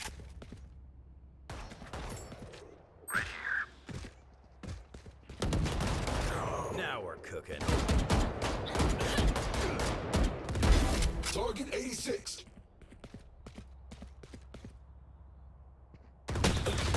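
Bursts of automatic gunfire in the shooter game Valorant, rapid rattling volleys in several clusters separated by quieter gaps, fairly close and loud.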